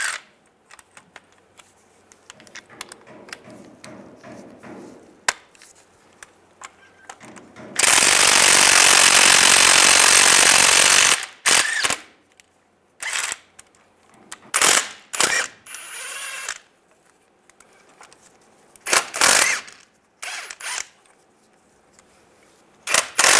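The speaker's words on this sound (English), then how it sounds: "We're going to take these bolts out of the axle." An impact power tool with a 15mm socket drives out axle bolts on a 2007-2013 Chevy Silverado in one loud, sustained three-second burst, surrounded by quieter clicks and short mechanical clatters.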